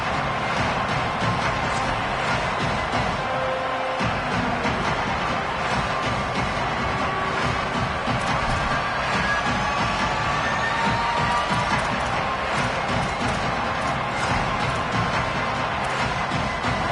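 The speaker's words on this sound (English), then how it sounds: "how nice is it to have the home crowd going absolutely bananas?" A home crowd at a football game roars and cheers continuously, a dense, loud wash of shouting voices from many fans that never lets up.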